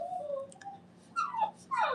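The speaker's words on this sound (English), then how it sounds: "Do you want to see this doggy?" A dog whimpers in short, high whining bursts with brief pauses between them, fairly faint and close, with no one speaking.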